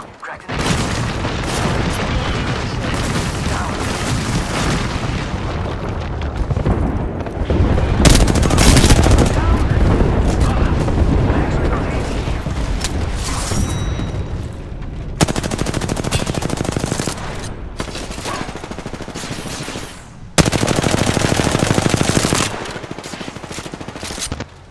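Sustained automatic gunfire and booming shots from the Apex Legends video game, loud and dense in long bursts with brief breaks between volleys.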